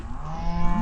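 Cattle low and moo in a Black Hills pasture, one sustained bellow heard up close and fairly loud with no talk over it.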